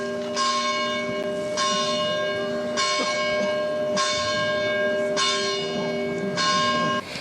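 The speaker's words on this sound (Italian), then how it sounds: "22 rintocchi di campane, tanti quanti i suoi anni, accolgono l'uscita del feretro" Church bells toll steadily at a funeral, about six evenly spaced strokes with long ringing overtones that overlap, clear and fairly loud with no voices.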